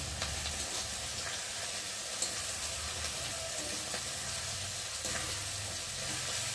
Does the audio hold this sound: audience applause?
no